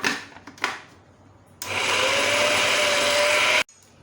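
Electric chopper mincing raw beef keema, a steady loud whirring motor that starts abruptly after a few clicks and handling noises, runs for about two seconds, then cuts off sharply.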